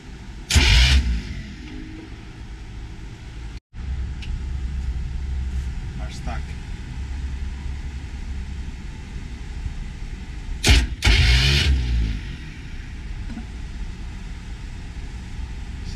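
A 1973 Bertram 28 boat engine with a faulty starter solenoid cranks in two loud, short bursts while the solenoid is bypassed, over a steady low background hum with people talking.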